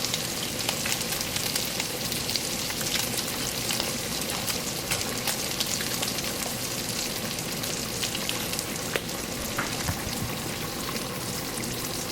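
Sausage fries in a pan for red beans and rice, a dense continuous crackling sizzle heard close up and fairly loud, with scattered sharper pops and no talk.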